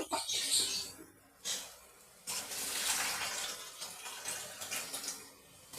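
Water is poured from a container into a pan of watermelon rinds on a gas stove, giving a soft splashing gush that starts and stops in a few bursts, faint and close, with no talking.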